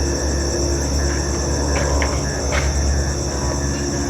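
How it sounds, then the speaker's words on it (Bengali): Crickets chirp at night near a river, a dense, loud, continuous buzzing trill that fills the whole stretch with no voices. "ঝিঝি পোকা ডাকছে"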